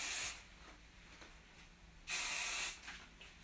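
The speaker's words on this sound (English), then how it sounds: "So here, you can really spray it in there." Hair spray hisses from an aerosol can onto a hairdresser's updo in two short bursts, with a quieter stretch of room noise between them.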